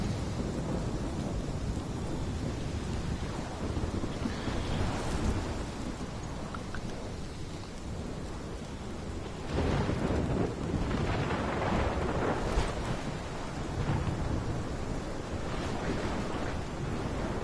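Heavy storm in the video game Life is Strange, with rain and wind rushing steadily throughout and loud rolling thunder swelling near the middle and late part, with no voices.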